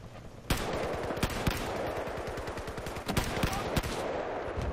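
Gunfire in the Battlefield 4 video game: loud, sharp bursts of rapid automatic fire mixed with single heavy shots, close and continuous over a few seconds, with a faint voice underneath.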